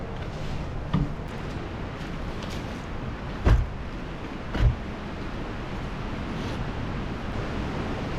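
Strong wind gusts buffet a campsite with a PVC pipe tarp tent, a steady rushing roar with a few sharp thumps and flaps standing out, fairly quiet overall and with no one talking.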